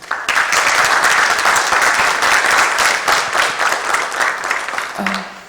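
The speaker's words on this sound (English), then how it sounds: "Mr. Vanwani, Mr. Rajiv Nair, Mr. Hussain, ladies and gentlemen, a round of applause." An audience gives loud, continuous applause at the end of a panel discussion on maritime technology, the dense clapping holding steady for several seconds before tapering off.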